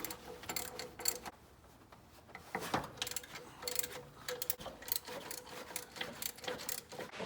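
A wrench breaks loose the bolts on the power steering pump of an old OBS Ford pickup with the 4.9L six, heard as sharp metallic clicks and ratcheting taps in irregular bursts, close by, with brief pauses between.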